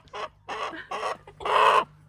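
Hens cluck in a close, busy burst of four or five short calls, the last one louder and longer, against a faint background hum.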